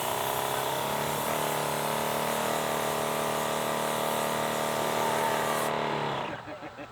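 A Wagner Control Pro 130 paint sprayer runs steadily while coating a brick house exterior, a loud continuous motor-and-pump drone with a constant hum that holds for about six seconds before cutting off abruptly.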